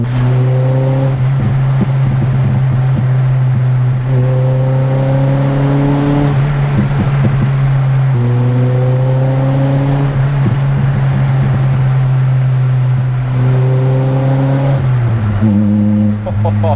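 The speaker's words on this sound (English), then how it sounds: "I can't believe this car sounds that good in the high revs." Nissan Pulsar SSS engine heard from inside the car, a loud, steady droning hum held high, with tones repeatedly climbing through the gears and brief dips between them.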